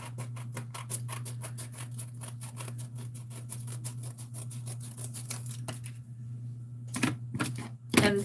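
Paper is trimmed for a craft project with a rapid, regular series of sharp cutting clicks over a steady low hum, pausing briefly near the end before a few louder snips.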